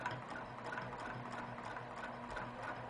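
A sewing machine stitches over previous stitching on a quilt block, running steadily and quietly with a continuous whirring hum and rapid needle clatter.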